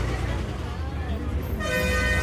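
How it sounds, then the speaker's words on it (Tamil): Heavy road traffic surrounds a moving bus on the way to Thanjavur, a steady engine and road rumble with a long horn blast rising near the end, under a voice talking. "செம்ம டிராஃபிக்குங்க"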